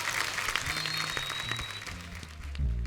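Studio audience applause on an Indian comedy talk show with film star guests, a dense, steady clapping wash filling the room, swelling louder near the end.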